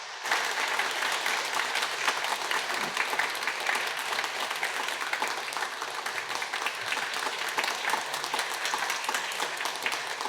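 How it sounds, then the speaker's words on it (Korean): A church congregation at Yongin Youngnak Church applauds course graduates during a Sunday service, with dense, steady clapping from the whole room sustained at an even level throughout. "수료종과 선물을 드릴 때 박수로 축하해 주십시오"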